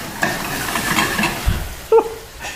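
A pan of bananas Foster with rum is shaken over the heat, giving a close, rushing sizzle with a brief metallic clatter of the pan near the end.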